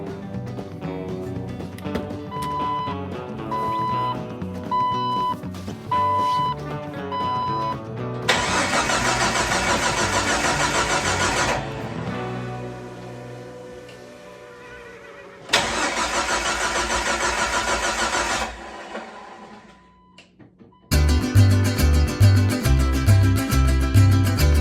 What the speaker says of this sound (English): I think we're ready for first engine start and initial braking.